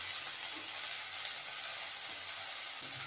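Herb leaves, including thoothuvalai, fry in oil in a pan with a steady, even sizzling hiss close by and no voices.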